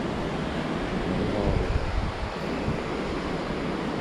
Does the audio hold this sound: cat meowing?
no